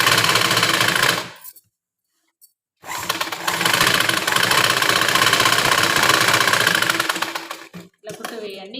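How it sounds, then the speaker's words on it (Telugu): A sewing machine stitching a blouse made from leftover saree fabric, two loud close runs of rapid, steady motor whirring and needle chatter separated by a brief pause, with someone speaking near the end. "ఇప్పుడు పై పార్ట్ తీసుకొని సేమ్ ఇప్పుడు ఎలా అయితే వేసానో ఇలా పెట్టేసి దీనిపైన కూడా ఇంకో కుట్టు వేయండి"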